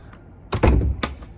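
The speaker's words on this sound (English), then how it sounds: "Close my door." A door is pushed shut, making a solid thunk followed by a second lighter knock, close by in a quiet room.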